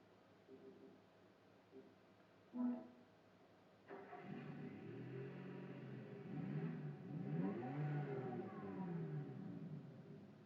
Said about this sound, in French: pour le son, c'est vraiment le vieux moteur des années 80